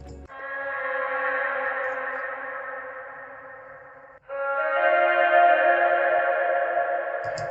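Sustained sung background vocals drenched in heavy reverb, two long washy phrases with a brief break between them, smooth and spacious without any talking.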